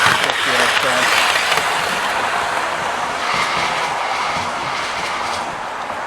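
A model train runs steadily on a model railway layout with a continuous rumbling rattle and faint rhythmic clicking of wheels on track, close and fairly loud throughout.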